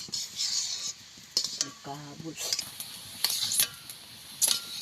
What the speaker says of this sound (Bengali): এবার অনবরত নেড়ে চেড়ে এটাকে ভালো করে জাল করে নেব।